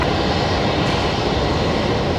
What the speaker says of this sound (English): Jetstar 154 coming in next from Auckland.